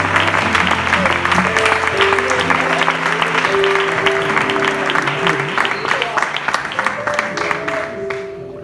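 Church congregation applauding the Lord during a Spanish-language sermon, loud sustained clapping from many hands over sustained music tones, gradually fading toward the end.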